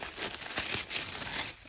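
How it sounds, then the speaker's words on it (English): Soft tissue and protective paper is crinkled and pulled away inside a luxury shoe box holding Italian full-leather studded shoes, giving a quiet, steady rustling and crackling close by with no voices. "A lot of tissue paper,"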